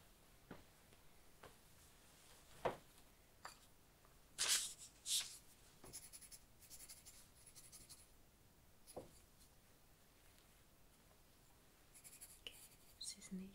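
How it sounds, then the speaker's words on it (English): Pen writing notes on paper during a soft-spoken historical dressmaker roleplay: faint, close scratching strokes with occasional sharper taps and page rustles, very quiet and intimate. "So just let me write everything."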